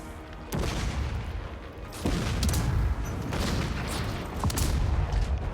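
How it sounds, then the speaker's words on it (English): Repeated cannon fire in the fantasy strategy game Total War: Warhammer 3, several loud booming shots over a dense battle din of clashing and rumbling, with no talk. "I'm watching those cannon shots arc over, though."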